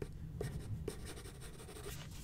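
Pencil strokes on paper while drawing a cartoon character from Aardman's Early Man, a quiet close scratching with several distinct stroke onsets scattered through, no talking.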